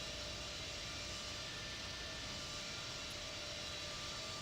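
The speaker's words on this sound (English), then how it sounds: "There's an aircraft that just passed me." A Boeing 787 airliner passing by in the Infinite Flight simulator, heard as a steady, even jet-engine roar with broad hiss that holds constant throughout at a fairly low level.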